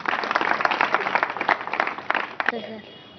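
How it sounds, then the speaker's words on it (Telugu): Audience applause at a public interview with a Vemulavada MLA, a short burst of many hands clapping that fades out after a few seconds. "చప్పట్లు కొట్టండి బాబు కూడా."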